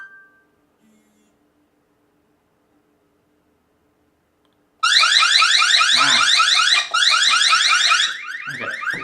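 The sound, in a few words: security camera alarm sounding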